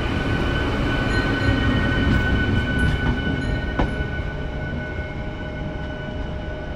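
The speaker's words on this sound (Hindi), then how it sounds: "Bareilly city Ramnagar MEMU train देखिए जा रही है अब काशीपुर जंक्शन की दिशा में" A Bareilly City–Ramnagar MEMU train heading toward Kashipur Junction rumbles loudly and continuously with steady wheel and motor drone, a faint high whine, and a couple of sharp rail clicks.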